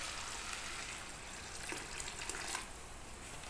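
Water pours into a cooking pot for basmati rice, a faint, steady splashing stream that continues throughout with a couple of slightly louder gushes.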